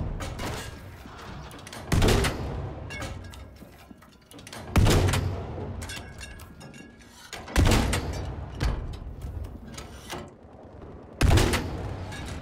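Heavy artillery fire in the video game Battlefield V on the Narvik map in Conquest mode: several loud, booming impacts land at irregular intervals over a steady rumbling battle background, with no talking.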